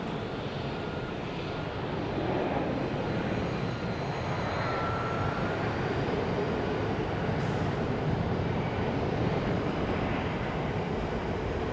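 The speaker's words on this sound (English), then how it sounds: "It's an Airbus A319 going to Los Angeles." Airbus A319 airliner at Houston Intercontinental airport, heard as a steady, broad engine roar that swells after the first two seconds and holds loud and continuous with no talking.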